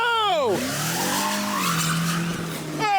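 A car racing around a homemade DIY race track, skidding with loud squealing tires and a rising, falling engine whine close by, with voices heard underneath.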